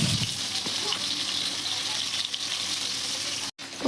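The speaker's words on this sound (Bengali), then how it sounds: "এই মাছগুলো এক এক করে ভেজে নিতে হবে ভালো করে।" Fish rubbed with salt and turmeric sizzle steadily in hot oil in a pan, a constant close crackling hiss that briefly cuts out near the end.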